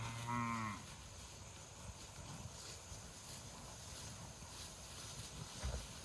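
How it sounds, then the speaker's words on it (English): A steer bellows a single loud moo close by at the outset, with a farm trailer nearby, then wind rumble and faint outdoor noise carry on alone. "this guy, Baldy, the steer, we're trying to get him to the processor"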